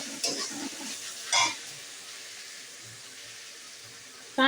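Onions with ginger-garlic paste and slit green chilies frying in a pan, a soft continuous sizzle with a few stirring scrapes and clinks, no talk.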